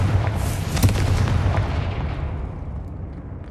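Confringo blasting spell in Hogwarts Legacy on PS5: a loud, booming explosion with a sharp burst near the start that rumbles and fades over a few seconds, heard alone.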